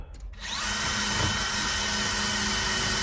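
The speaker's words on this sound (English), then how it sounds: "So now I'm gonna have to drill" A power drill spins up and runs continuously while drilling pilot holes for truck camping power wiring, a loud steady whine starting after a brief moment of quiet and holding through to the end.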